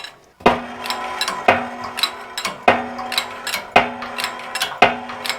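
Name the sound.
steel sleeve pressing bushing through radius arm with hydraulic press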